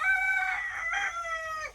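A rooster crows once, close and clear, a single drawn-out call in a quiet rural setting with chickens.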